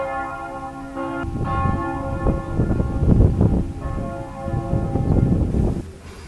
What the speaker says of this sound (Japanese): 7時の鐘が鳴り始めました。